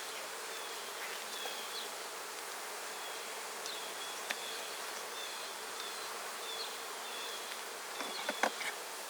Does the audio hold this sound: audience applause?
no